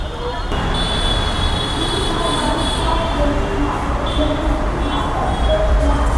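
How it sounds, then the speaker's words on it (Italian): An elevated metro train in Delhi rolls past overhead, a continuous loud rumble with high wheel squeals over busy street traffic, close by and sustained. "la metro che passa sopra, sopraelevata"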